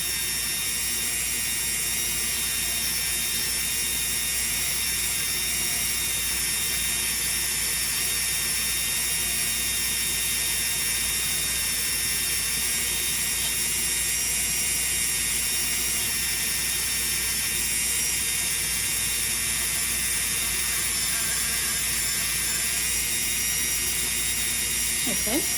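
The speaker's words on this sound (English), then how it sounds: "I'm just letting the sanding grit do the job." A Dremel 4000 rotary tool with a 240-grit sanding drum whines continuously and loudly on wood, a steady grinding buzz with little change in pitch throughout.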